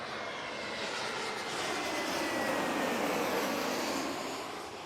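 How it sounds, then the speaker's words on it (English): A very loud airplane passes overhead, a broad steady roar that swells toward the middle and fades slightly at the end, heard outdoors in Miami, Florida. "Got a very loud plane coming by."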